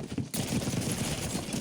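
Rapid gunfire from the video game Warzone, a dense burst of automatic shots after a brief gap, loud and continuous over spectator audio.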